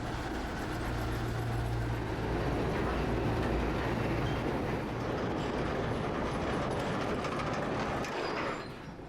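A small industrial sugarcane train runs through farm fields in Indonesia, a steady loud rumble of wagons and rail noise that holds throughout before easing off at the very end.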